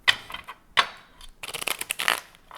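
Tarot cards being shuffled in quick, papery bursts: two sharp riffles followed by a longer flurry of flicking and slapping, close and dry.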